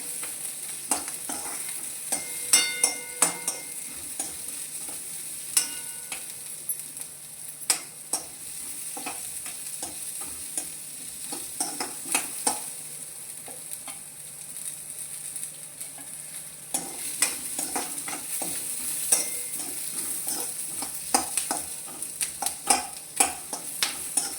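Onion, green chili, a couple of cashew pieces and coconut fry in a pan for a katla fish curry, a steady sizzle broken by frequent scraping and clinking stirs throughout, close and without talk.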